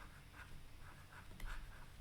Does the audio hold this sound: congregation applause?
no